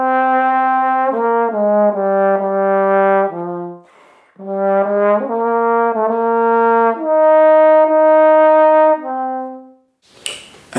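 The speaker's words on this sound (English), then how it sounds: "This is the tenor trombone," Tenor trombone plays a short melodic phrase solo, with bright, brassy sustained notes rising and falling, followed by a brief noisy burst at the end.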